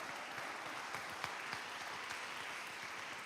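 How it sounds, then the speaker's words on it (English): An audience in a church workshop claps steadily in a sustained round of applause, a dense wash of hand claps heard from within the room. "Give her a round of applause,"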